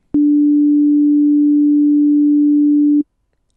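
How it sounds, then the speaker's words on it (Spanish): A pure sine wave tone sounds alone at one steady pitch for about three seconds, starting and stopping abruptly with a faint click, loud against silence. "Una onda senoidal, una sinusoide, suena así."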